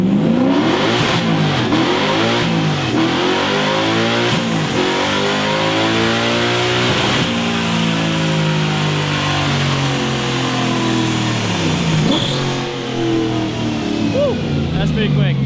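A mini-truck with a swapped Toyota 1UZ V8 pulls hard on a dyno through its gears, the engine revving up loudly in repeated climbing sweeps with shift breaks between them, close and dominant.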